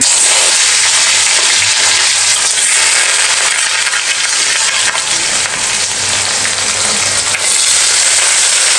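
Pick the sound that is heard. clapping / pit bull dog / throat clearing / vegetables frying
vegetables frying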